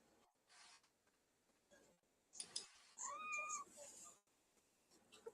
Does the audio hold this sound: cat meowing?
yes